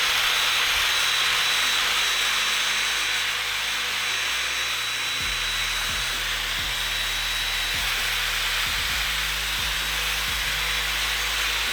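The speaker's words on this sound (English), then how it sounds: "I basically burn the paint and it comes out so easy" A torch burns paint off a BMW E46 car body with a continuous, loud roaring hiss, broken by scattered low knocks and thumps from the work.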